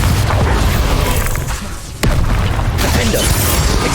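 Bombarda and Confringo spell blasts from Hogwarts Legacy burst in loud, heavy booms amid busy combat noise, with a brief lull before another sharp hit.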